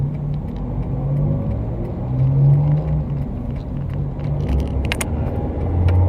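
Car driving in light rain, heard from inside the cabin: a steady engine and road rumble with small rattles and jingles, no talk.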